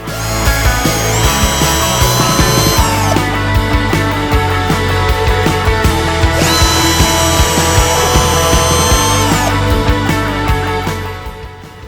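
A power drill bores into the pale sapwood of a three-year-old Huang Hua Li tree, giving a loud, continuous whine that shifts in pitch twice as the bit loads and eases, with no talking.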